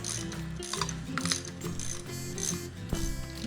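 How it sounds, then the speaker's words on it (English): Air wrench snugging up bolts on a 727 transmission pan for a 440 in a shop, a steady close mechanical ratcheting whir with gear-like clicking, running continuously without talk. "Need an air wrench."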